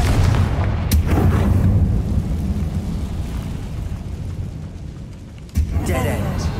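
Confringo fire spell explosions in the video game Hogwarts Legacy, heavy booming blasts over a rumbling game soundscape, with a sharp burst near the end.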